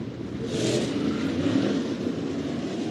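Dirt track race cars heading onto Smoky Mountain Speedway for a heat race make a steady, loud engine rumble and drone that holds throughout with no talk.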